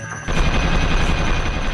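Mini turrets in Ratchet & Clank: Going Commando keep up a dense, continuous stream of rapid gunfire that starts abruptly after a brief quiet moment and stays loud throughout.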